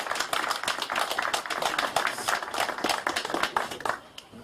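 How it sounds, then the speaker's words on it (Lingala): An audience claps in applause at an event, dense rapid clapping that holds steady and then tapers off near the end. "Soki toko yambe, s'il vous plaît, avec beaucoup d'applaudissements."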